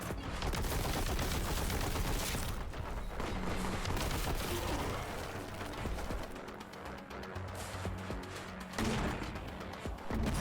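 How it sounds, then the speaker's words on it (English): A missile weapon in Warhammer 40,000: Boltgun fires and impales enemies before detonating, amid a continuous roar of shots, blasts and crashing effects that stays loud and dense throughout. "impaling these guys with a little missile thing and then having it explode a second later"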